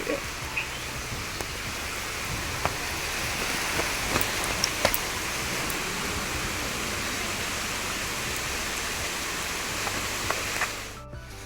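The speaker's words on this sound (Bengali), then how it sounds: "এদিকে বৃষ্টি শুরু হয়ে গেছে" Monsoon rain falls steadily outdoors in an even, dense hiss, with occasional sharper drops and taps standing out before the sound cuts off abruptly near the end.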